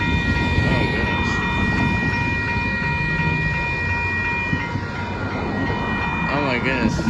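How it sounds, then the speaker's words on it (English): A northbound Union Pacific freight train of gravel and hopper cars rolls steadily past a road crossing, a loud continuous rumble with rail squeal and clatter filling the whole stretch. "There comes the northbound train."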